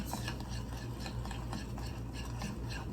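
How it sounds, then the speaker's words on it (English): Oreo frying batter is stirred with water in a bowl, giving a steady, soft, continuous swishing and scraping close up, with no voices. "And then just mix it up until I get it how I want it."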